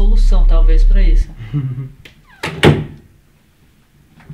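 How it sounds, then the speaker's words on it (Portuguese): A door bangs shut indoors with a sharp, loud thud followed by a brief rattle, close by, after a stretch of people talking. "Foi batida de porta. Foi porta."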